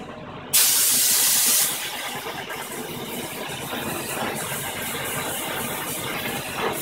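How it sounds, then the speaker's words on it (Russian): Water rinsing a part during chrome plating: a loud broadband burst of spray opens the clip for about a second, then a steady hissing flow continues to the end. "Тщательно промываем."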